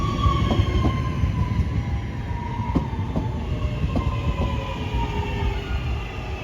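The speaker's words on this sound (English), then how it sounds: "Here comes the West Midlands Railway service 323214 going to Redditch from Four Oaks." A West Midlands Railway class 323 electric train arriving at Longbridge station, a loud, close, steady rumble with wheel clicks over rail joints, rising whine and squealing tones as it rolls in.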